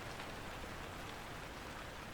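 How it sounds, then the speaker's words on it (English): Soft, steady rain falling continuously, a dense even patter with no distinct drops standing out, faint and unbroken throughout with no voices. "The rain slowed, not stopped, just softened"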